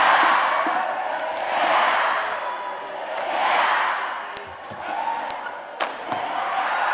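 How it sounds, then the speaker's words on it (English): Badminton crowd at an Indonesia Open match between Indonesian and Thai doubles pairs, cheering in rolling waves of broad, roaring noise that rise and fall, with a few sharp shuttle or racket slaps cutting through. "Much to the delight of the crowd."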